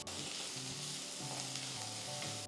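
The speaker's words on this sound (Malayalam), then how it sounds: "ഇതെല്ലാം കൂടി ഇട്ട് നന്നായിട്ടൊന്ന് വഴറ്റിയെടുക്കുക" Onion, garlic, ginger and green chilli sauté in coconut oil in a kadai, a steady close sizzle and crackle with soft stirring, alone and fairly quiet.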